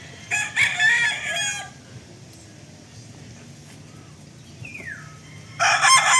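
Two loud crows from a nearby rooster in a small backyard chicken pen, one at the start and another at the end, separated by quiet background noise and a faint bird call.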